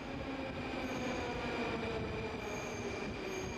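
A Moscow Metro train runs on its rails with a loud, steady rumble. Sustained metallic wheel-squeal tones ride on top and continue without a break.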